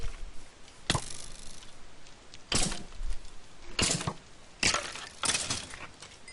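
Skeleton mobs firing arrows in the Minecraft video game, a series of about five sharp, snapping shots spaced irregularly, each with a short crackling tail, loud and close with no talking.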